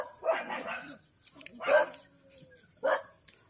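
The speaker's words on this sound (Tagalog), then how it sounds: "Ang iingay guys ng mga aso ko dito." Several dogs bark in three loud, close bursts spaced about a second apart, with a whimper-like tail between them.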